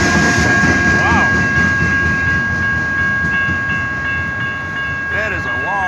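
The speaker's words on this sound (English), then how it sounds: "That is a long train." A long train rolls past near Sterns Road, its wagons rumbling steadily and loudly throughout, with horn-like tonal squeals sounding over the rolling noise.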